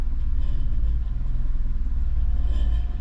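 A car engine idling steadily nearby and slightly low, with an oxygen sensor fault code, a low pulsing rumble that holds constant throughout.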